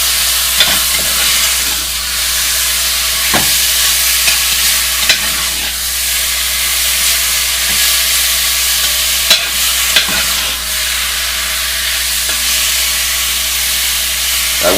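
Beef pieces browning in a pot for beef stroganoff hiss in a steady, close sizzle while a spoon stirs through them, with scattered scraping knocks against the pot and no voices.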